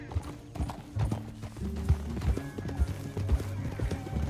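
Horse hooves gallop in Red Dead Redemption 2 as a steady, fast clip-clop rhythm, loud and close, with an occasional faint whinny; no talk.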